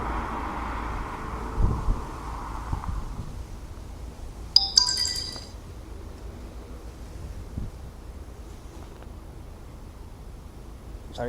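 A mobile phone ringtone chirps in a short bright burst near the middle, faint against wind rumble and quiet outdoor airport ambience.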